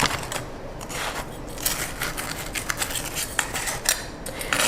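A knife cutting toasties on a plate: a rapid run of crisp crunching and scraping clicks, close and fairly loud, with sharper taps of the blade against the plate.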